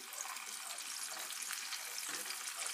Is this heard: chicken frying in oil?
yes